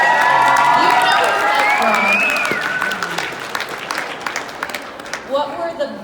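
Audience at a Q&A with a Harry Potter actor in Sandy, Utah cheering and clapping, loud at first then fading into scattered applause and voices over the last few seconds.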